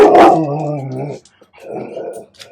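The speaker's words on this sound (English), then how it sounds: "Now the dog's calmed down." A dog growls and gives a loud close bark, then a second, lower growling burst follows after a short pause, with no one talking.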